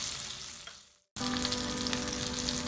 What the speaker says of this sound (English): the fish is frying again in the open